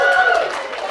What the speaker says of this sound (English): before he gets another round of applause